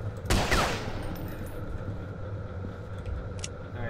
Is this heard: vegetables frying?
no